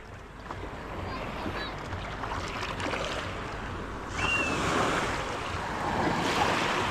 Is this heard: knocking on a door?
no